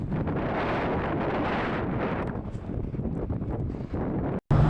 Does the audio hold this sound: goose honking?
no